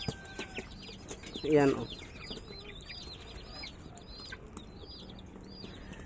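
Hungry pet chicks cheep and cluck in a busy, continuous chorus of high chirps, with a brief louder fowl call standing out near the middle and a short spoken phrase early on.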